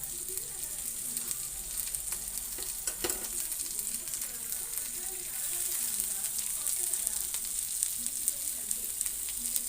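Fish frying in a pan gives a continuous crackling sizzle that stays fairly quiet and even throughout, with a few brief sharper pops.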